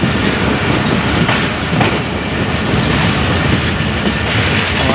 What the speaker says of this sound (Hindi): और हम लास्ट कोच में सवार हैं तो बस यहीं हमारी ट्रेन रुक जाएगी।